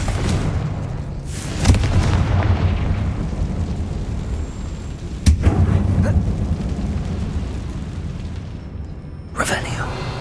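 Explosive Confringo spell blasts in the Hogwarts Legacy video game, set in an old mine, with three sharp booming bursts spaced a few seconds apart over a continuous rumbling game ambience.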